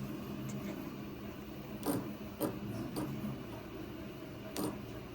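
Two coupled closed-loop NEMA 17 stepper motors driven by an ESP32 cycle with a low mechanical hum, punctuated by four or five short clicking, ratchet-like bursts, fairly faint and with no talking.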